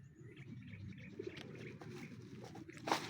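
Racing pigeons coo softly over a quiet outdoor background, with low, repeated throaty calls and a brief brighter note near the end.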